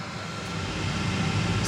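Steady, loud jet airliner engine roar inside the cabin as the plane begins its takeoff run, a deep rumbling hum that swells slightly over the short stretch with no voices.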